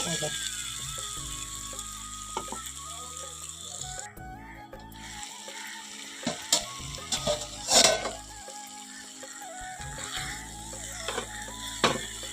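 Boiled chickpeas and potatoes fry in oily spice masala with a steady sizzle, punctuated by spatula scrapes and clinks against the pan, and a voice speaks intermittently over the cooking.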